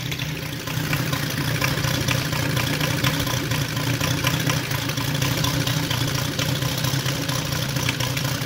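A 260cc model aircraft engine with an RCEXL CDI ignition idles steadily and smoothly for several seconds, a loud, even, low-pitched puttering hum close by with no talk.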